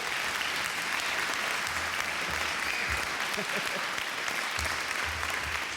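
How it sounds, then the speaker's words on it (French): A conference audience applauds a speaker, François Soreau, at a morning talk in French: steady, dense clapping from many hands fills the whole stretch at an even level, with a faint murmur beneath. "Une bonne main d'applaudissements pour François Soreau."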